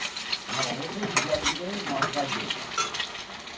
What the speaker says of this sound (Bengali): এবার আমি ডিমটাকে ঝুড়ো বানিয়ে নেব।